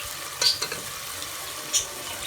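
Green chili, red chili, ginger and garlic frying in a pan for restaurant-style palak gosht, giving a steady hiss with a couple of brief louder crackles; no voices.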